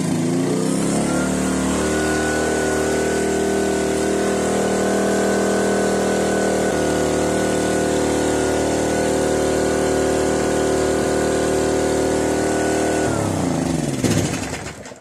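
An old Kawasaki GD700 generator runs loud and steady at a high, over-revved pitch, a continuous engine drone that drops away sharply near the end, with no talk.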